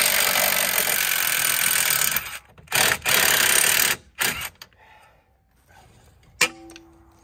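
A ratchet works on the bolts holding a vehicle's A-arm during lift and hitch installation, giving loud rapid clicking bursts in several short runs separated by pauses, with a sharp clank near the end.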